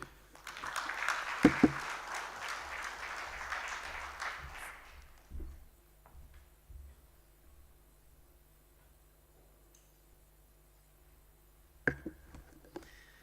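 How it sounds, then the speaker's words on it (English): An audience at a trade and investment forum in Zanzibar gives a short round of applause that fades within about four seconds, leaving a quiet hall with scattered small noises. "I'm sure we can do a bigger round of applause than that to Afrexim Bank"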